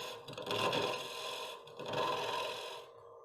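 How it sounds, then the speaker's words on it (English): Push cuts on a wooden nut bowl spinning on a wood lathe throw off shavings as a steady scraping rasp in two long passes with a brief pause between them, with no talking. "I'm making shavings, not sawdust."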